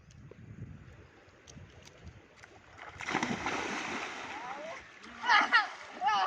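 A body plunges into the Salungi river with a loud, close splash that churns on for a couple of seconds, followed by further splashing and excited voices.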